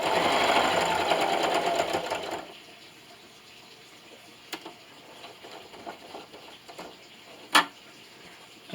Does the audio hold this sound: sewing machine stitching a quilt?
yes